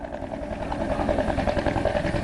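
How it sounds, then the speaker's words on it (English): A Customs and Border Protection helicopter comes in to land during flood rescue operations, its steady rotor thump and engine whine loud and continuous throughout. "You see this Customs and Border Protection chopper landing right behind me."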